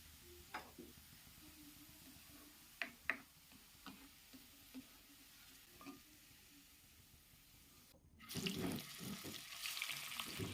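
Chicken goes into hot coconut oil: faint clicks and taps of a pan, then a sudden loud burst of sizzling frying that carries on to the end.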